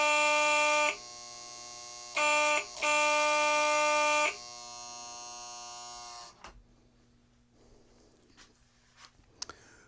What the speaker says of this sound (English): I fixed the horn.